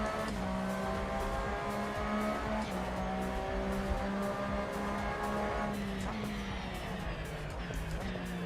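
A race car in a racing video game brakes hard with a steady engine drone and sustained tire squeal, continuous and loud throughout, no talk over it.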